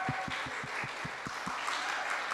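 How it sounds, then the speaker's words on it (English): Applause at a network symposium graduation ceremony, a steady wash of clapping from an audience with a few distinct low thumps, moderately loud and continuous for a couple of seconds. "Can we give Piwawi a round of applause, please?"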